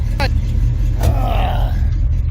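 Engine of a 1971 Chevrolet El Camino running with a deep steady rumble throughout, while a person speaks briefly over it.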